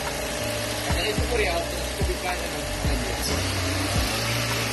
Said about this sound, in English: there's a video of the car starting